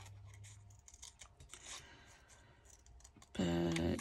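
Scissors fussy cutting rubber stamp images, with a string of small crisp snips and clicks close by, ending in a louder burst of noise.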